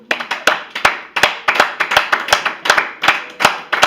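A church congregation at a Sunday worship service claps in a loud, brisk, steady rhythm, with sharp hand strikes repeating evenly throughout and no talking.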